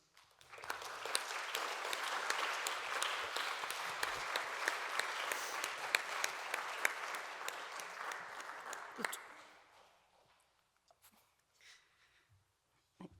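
A church congregation at a youth service claps to welcome a young man forward: close, dense applause for about nine seconds, then fading into a quiet room.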